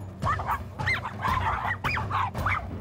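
A young black Labrador from a shelter barks, yips and whimpers in short, repeated bursts while playing with other dogs for the first time.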